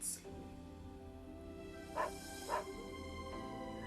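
A dog in an anime episode gives two short, faint barks a half second apart, set against a quiet background of music and room tone.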